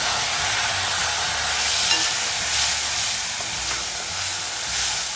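Onion browned with ginger, garlic and coriander paste frying in a pan, a steady dense close sizzle and hiss throughout with faint stirring scrapes, no voices.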